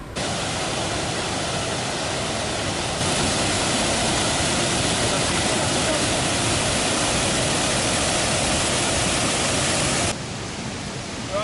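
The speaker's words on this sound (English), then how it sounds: "And there's the waterfall." Waterfall with peat-brown water on the Pennine Way, a dense, steady roar of falling water, loud and close, swelling slightly in the middle and holding constant throughout.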